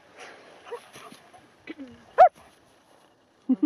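A young German Shepherd at a prairie dog park gives soft whimpers and one sharp yip, then two short yips near the end, with faint background noise between.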